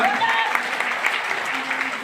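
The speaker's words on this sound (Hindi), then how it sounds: "तालियां बजा करके स्वागत कीजिए, हौसला बढ़ाइए।" Audience at a political rally clapping to welcome a guest, a dense, continuous wash of applause at close range, with a voice faintly audible beneath it.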